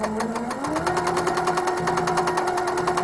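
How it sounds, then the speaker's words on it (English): A Handi Quilter longarm quilting machine stitches a Christmas quilt block, running a steady, close, rapid needle rhythm over a continuous motor hum with a slight pitch rise early on, with no talk. "I'm going to stitch from corner to corner back to the center"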